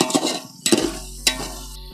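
Onion, tomato and masala being stirred in a pan for a Kadaknath black chicken biryani, with three distinct scraping clinks of a spoon against metal over a low sizzle and a steady hum, near and without voices.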